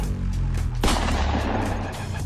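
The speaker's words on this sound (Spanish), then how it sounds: "Otro disparo perforó el metal, otro atravesó su pecho" A single sharp gunshot cracks out, followed by a rumbling echo that lingers over a low, steady engine-like drone, the shot striking a Dodge car.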